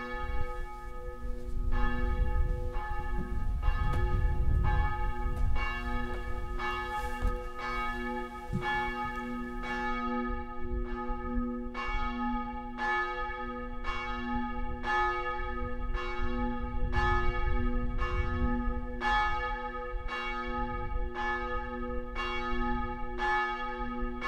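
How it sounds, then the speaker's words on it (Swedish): Church bells of Lysvik church ring steadily for over twenty seconds, a clear, resonant series of evenly spaced strikes with a long hum sustaining beneath, heard alone without talk. "Nu låter vi våra kyrkklockor ringa in helgens frid,"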